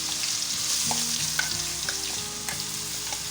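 Onion, garlic, ginger and green chilli masala paste sizzles steadily in a hot pan for an egg curry, a dense continuous frying hiss with light stirring clinks and scrapes throughout, close and fairly loud, no voices.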